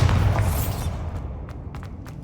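Bombarda spell explosion in Hogwarts Legacy: a loud, low booming blast at the start that rumbles away over a couple of seconds, with a few faint clicks afterward.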